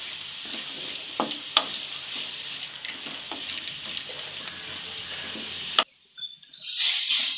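Chopped radish fries in hot oil in a pan, a loud steady sizzle with stirring scrapes, then it cuts off abruptly near the end before a brief hiss returns.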